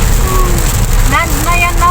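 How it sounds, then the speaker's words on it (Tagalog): Heavy rain pours in a steady, dense hiss with no pauses, close and loud, with a few faint voices underneath. "Yan ang malakas na ulan."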